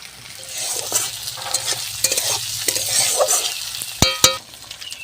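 Crushed garlic and ginger fry in a pan with a continuous close sizzle, broken by spatula scrapes and light taps, ending in two sharper metallic knocks near the end.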